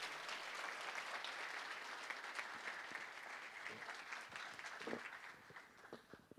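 An audience at an MLK luncheon applauds award recipients, a dense, steady wash of many hands clapping that holds for several seconds and begins to thin out toward the end, heard from a moderate distance.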